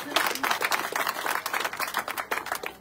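An audience at an Italian political rally in Ispica breaks into applause, with sharp individual claps standing out in an uneven burst, and some voices faintly mixed in.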